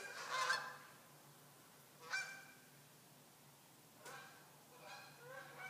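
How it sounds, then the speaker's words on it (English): Several goose honks ring out at a moderate distance, a loud burst at the start, then scattered calls a couple of seconds apart over quiet outdoor ambience. "Do you hear the geese?"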